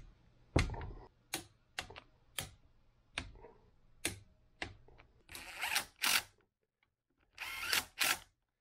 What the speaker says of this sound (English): the large head bolts, they're calling for 16 foot-pounds. And we're going to tighten those in a cross pattern